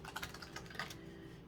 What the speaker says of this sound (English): I do 3 shuffles here.